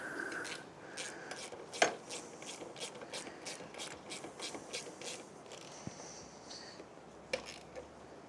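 Hand socket ratchet snugging 10 mm bolts while fitting a fender eliminator tail tidy on a 2026 ZX-6R, giving a steady series of close, quiet clicking strokes with one sharper knock partway through.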